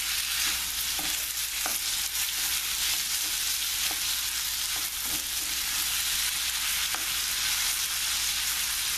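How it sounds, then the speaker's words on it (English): Chicken thigh meat sautéing in a pan, giving a continuous close, even sizzle with faint occasional taps and stirs of a utensil throughout. "I'm going to saute this for another 2 minutes"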